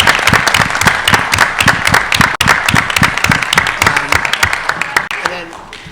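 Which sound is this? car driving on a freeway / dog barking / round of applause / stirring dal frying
round of applause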